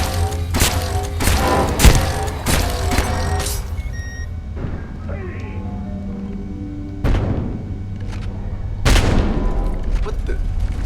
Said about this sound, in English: shoot him with these